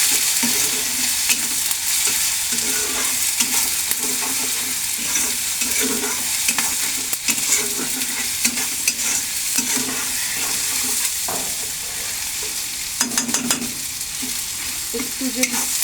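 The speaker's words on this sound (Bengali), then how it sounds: "আর একটু কাশ্মীরি রেড চিলি পাউডার দিয়ে এবার এটাকে ভালো করে নেড়ে" Masala with Kashmiri red chili powder and softened tomatoes being stirred in a pan, a loud continuous sizzle with repeated scraping strokes of the spoon close by, no speech.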